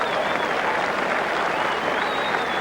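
A large Fijian crowd at a 1987 Rugby World Cup match against Argentina roars and cheers in a dense, continuous wall of noise, loud and constant, with a few voices rising above it.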